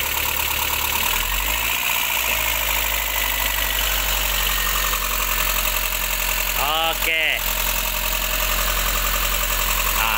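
A Proton Campro car engine idles roughly and steadily with a constant low drone, with a brief voice heard near the end.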